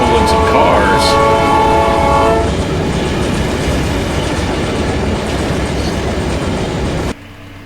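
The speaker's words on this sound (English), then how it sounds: "He's honking the horn just because he's in the tunnel." A train horn blares loudly in a tunnel over the rumble of a moving train in a trucking video game set in Wyoming, then fades, leaving steady rolling noise that cuts off abruptly.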